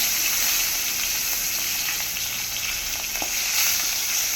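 Dried fish frying hard in hot oil, with a loud, close, continuous sizzle and crackle and occasional stirring scrapes, and no one talking.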